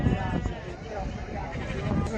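Sheep and lambs bleating at a livestock market, several drawn-out calls over a busy, crowded background with people talking nearby.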